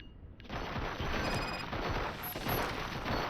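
Dense rattling gunfire in the game RoboCop: Rogue City, rapid bursts overlapping with mechanical clatter at a moderate, steady level.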